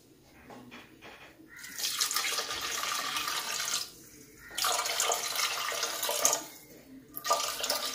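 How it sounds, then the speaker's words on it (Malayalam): Water poured from a vessel into a cooking pot holding crushed dry ginger for Nombu Kanji rice porridge, a close splashing gush in three separate pours with short pauses between. "ഇനി നമുക്ക് വെള്ളം ഒഴിച്ചു കൊടുക്കാം"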